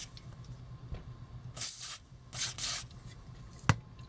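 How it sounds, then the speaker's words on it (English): Cure 556 lubricant, similar to WD-40, sprays in two short hissing bursts from a can onto a Takara Transformers G1 Protectobot First Aid toy, close and distinct, followed by a single sharp tap. "So what we're gonna do is just spray some here."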